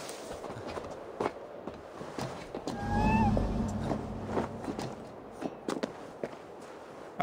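Cat in Assassin's Creed Valhalla: a single short meow rises near the middle, set against soft footsteps and a low ambient bed, with light taps scattered throughout.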